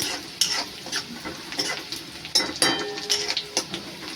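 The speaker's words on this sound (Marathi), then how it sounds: "अजून थोडा लाल होईपर्यंत भाजून घ्या कांदा" Sliced onions sizzling in hot oil in a pan while a spoon stirs them, a steady frying hiss broken by repeated scraping and clinking strokes against the pan, close and clear with no talk.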